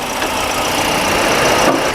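The 1.2-litre four-cylinder, 16-valve petrol engine of a 2018 Toyota Yaris Ativ runs at a steady idle, heard up close as a loud, even mechanical drone with no talk over it.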